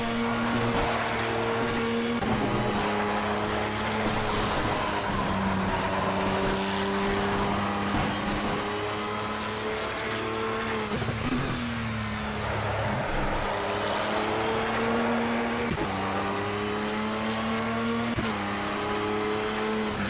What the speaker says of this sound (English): just the floor just constantly scraping the ground